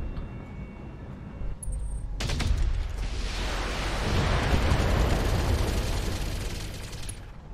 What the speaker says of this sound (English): That is some pretty mental range for machine guns to go.